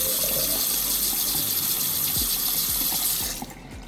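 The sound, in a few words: water draining down a sink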